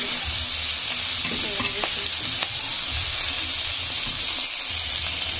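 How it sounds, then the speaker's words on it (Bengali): Raw onion goes into hot oil with whole cumin, bay leaf and cinnamon, giving a loud, constant hiss and crackle close by, with faint stirring knocks and no talk. "এর মধ্যে দিয়ে দেবো কাঁচা পেঁয়াজ"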